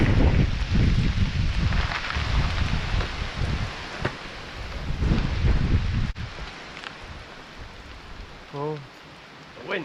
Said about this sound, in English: Oh, the wind's slowing down at least.